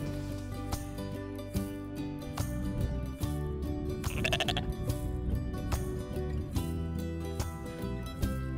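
Sheep on a farm in Shetland bleating repeatedly, with lambs among them, a steady layered chorus of overlapping calls close by and continuing throughout.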